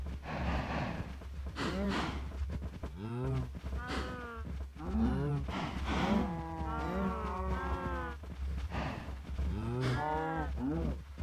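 Several Minecraft cows mooing repeatedly, overlapping low drawn-out moos one after another over a constant low hum, fairly close and clear with no talking.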